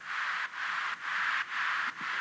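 Synthesized white noise hiss with no redux effect, in short repeated swells, each cut by a brief gap, roughly two per second, soft and filtered, in an EDM production.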